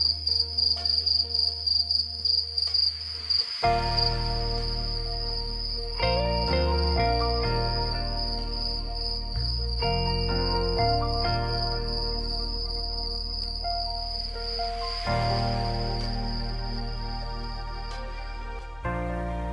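Steady cricket chirping, a high sustained trill running throughout, close and clear, with a soft tinkling musical drone underneath and no talking.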